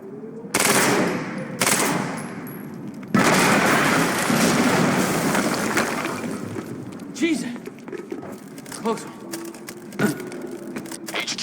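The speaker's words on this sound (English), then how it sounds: "We just heard an explosion near the harvesting perimeter." An explosion in the Quantum Break video game booms loud and close with sharp crackling bursts, followed by a long rumbling decay that breaks into scattered debris crackles.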